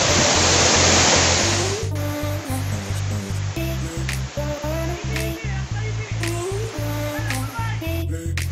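Chingri waterfall near Boga Lake in Bandarban, Bangladesh, gives a steady loud roar of falling water heard close up, with a repeating electronic music track playing over it for most of the stretch.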